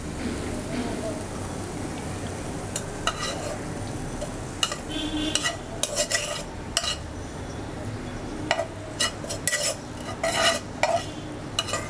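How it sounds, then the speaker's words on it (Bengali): Fried yardlong beans scraped from a pan into a bowl, with scattered utensil scrapes and clinks over a low hiss of leftover sizzle, growing busier and sharper in the second half. "এখন একটি বাটিতে আমি ভাজিটা তুলে নিচ্ছি।"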